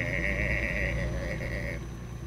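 A heavy truck engine strains while hauling a dozer in American Truck Simulator, producing a loud, steady droning whine with sustained tonal layers that ease off slightly near the end.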